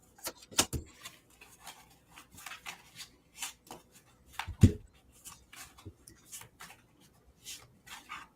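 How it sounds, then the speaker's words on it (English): Tarot cards being shuffled by hand in a quiet room, a string of soft, quick riffling and rubbing bursts with one louder slap of the deck midway, fairly close and without talk. "I'm still shuffling."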